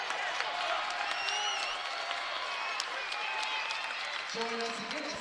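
A basketball arena crowd at a Nicholls Colonels men's game roars and applauds after back-to-back three-pointers, a dense steady wash of cheering and clapping that stays loud throughout, with whistles and shouts poking through.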